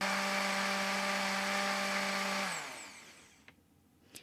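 A blender whirs loudly and steadily, blending ginger, garlic, onions, chilies, coriander and lime juice for a whole hilsa recipe, then spins down and stops, followed by a couple of faint knocks.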